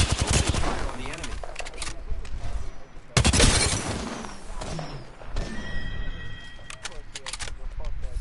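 Rapid bursts of automatic gunfire from a first-person shooter video game crackle loudly throughout, with a sharp heavy blast near the middle, mixed with game effects and a player talking over the action.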